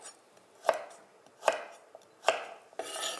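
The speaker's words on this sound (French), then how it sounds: "je vais couper maintenant les carottes" A knife chopping carrots on a board in a kitchen, cut on the bias: three sharp, evenly spaced chops about a second apart, close and clear, followed by a soft scraping rustle.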